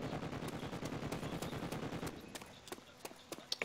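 Rapid automatic gunfire from a Call of Duty Nazi Zombies game session, a dense steady stream of shots that thins into scattered single shots toward the end, fairly quiet overall.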